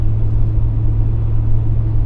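A first-generation Toyota Sequoia with a Dirty Deeds Industries exhaust cruises just under 50 mph, heard from the cabin as a loud, steady, deep low rumble without burble or surges.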